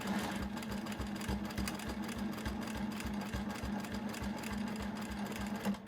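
A sewing machine stitches along a Westalee spinning wheel ruler, a steady, rapid mechanical hum running evenly throughout.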